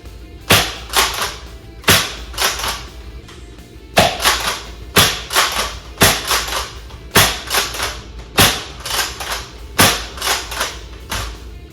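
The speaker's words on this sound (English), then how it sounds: "But now I'll show you the blast firing. Starting with the included knockoff rival rounds." A Dart Zone Liberator blaster fires knockoff Rival foam balls, giving sharp, snappy pops in a steady, fairly even sequence of about a dozen shots, loud and close with brief gaps between them.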